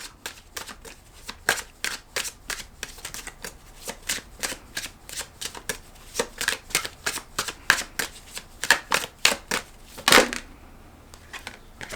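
Tarot cards being shuffled close up, a long run of crisp riffling flicks and slaps in an irregular rhythm, ending with a louder burst before a short quiet.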